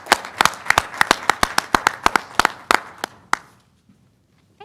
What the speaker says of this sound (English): Let's have a big round of applause for all of our students and staff.